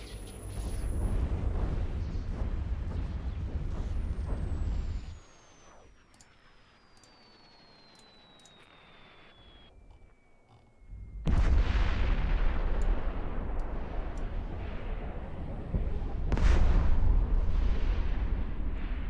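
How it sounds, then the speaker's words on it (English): A ship blowing up in the space video game EVE Online: a loud rumbling blast fades into a quiet stretch with a falling whine, then a second heavy booming burst rolls on for several seconds. "Let's watch a Purdy explosion."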